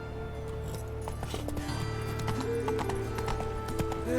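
Roach, the horse in The Witcher 3, gallops with a quick, rhythmic clip-clop of hooves at moderate volume, alongside faint tonal game sounds.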